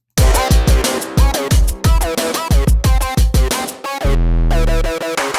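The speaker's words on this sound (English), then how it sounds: "put the sequence to random, have the octaves at 1 so it jumps from one octave to another randomly" A synth arpeggio in Caustic, its sequence set to random, hops unpredictably between high and low octaves in quick, bright notes, ending on a sustained low droning chord.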